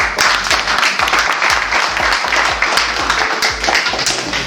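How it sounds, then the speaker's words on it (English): A crowd applauds steadily, many hands clapping together in a dense, even patter that holds throughout. "So we should also give him more of the applause."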